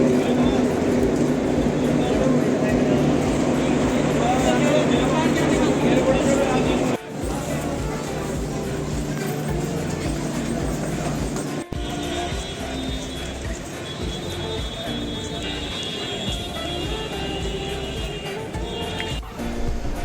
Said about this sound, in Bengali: দিল্লি স্টেশনে নেমে গেছি, এখন কুলি নিয়ে সব মালপত্র নিয়ে এখন এগোচ্ছি।